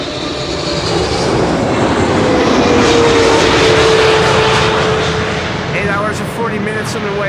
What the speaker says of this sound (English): This is KLM flight 682, arriving from Vancouver, Canada, 777-300 the PH BVF